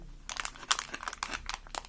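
Crisp crinkling of a small paper packet being handled while a toy is unboxed, a quick series of close, dry rustles and crackles with no talking.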